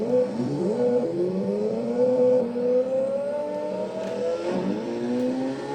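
A video game motorbike engine revs on a Compaq Presario 2240 computer, its synthetic whine climbing and dropping in pitch through repeated throttle surges, loud and steady with no talking.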